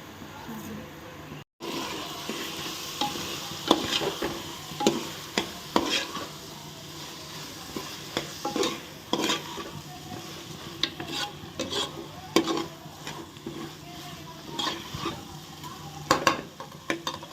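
Spinach and corn rice masala frying in oil as it is stirred, giving a steady close sizzle with repeated scraping strokes of a spoon against the pan, a brief dropout near the start, and a voice speaking now and then.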